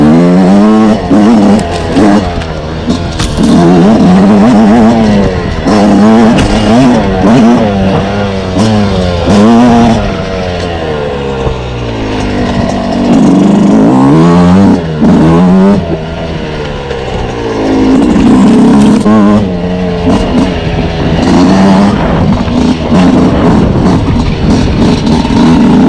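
A 2026 Yamaha YZ125X two-stroke dirt bike ridden through the gears, a loud, close engine revving up and down continuously, with rising and falling pitch sweeps as it shifts.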